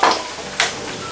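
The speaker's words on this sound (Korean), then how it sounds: "야채들을 다 넣어주세요." Vegetables hit a hot wok with scallion oil, garlic and cheongju while cooking ulmyeon noodle soup. Two quick bursts of close, bright sizzling and stirring sound over a steady frying hiss.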